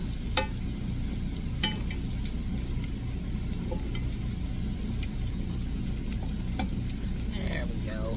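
Bacon strips fry in a cast iron skillet with a constant bubbling sizzle and a few brief crackles and utensil clicks, fairly close, over a low steady hum.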